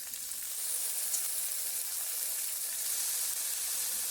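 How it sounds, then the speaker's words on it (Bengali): Drained taro flowers frying with green chilli and spices in a pan, a soft, even, continuous sizzle heard close up without any talking. "ফুলটা দিয়ে আমি কিছু সময় এভাবে ভেজে নেব।"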